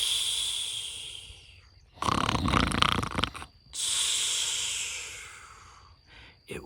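A voice imitates snoring with drawn-out, raspy breaths in a slow rhythm, two long hissing inhales separated by a louder snorting burst.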